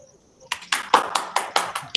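A group of people clapping hands in a short burst, about seven sharp claps in a steady rhythm, fairly close and loud, after a moment of quiet.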